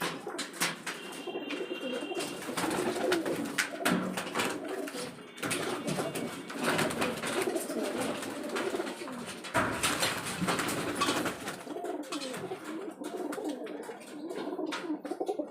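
Pigeons coo repeatedly amid a busy wash of bird calls and flapping, with occasional faint voices in the background.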